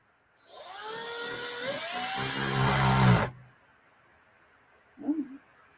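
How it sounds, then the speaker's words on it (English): An electric drill bores a hole into a lock, whining loudly for about three seconds as its pitch climbs, then cuts off, followed a moment later by a brief knock. "Go for a bigger drill bit. We got the hole started."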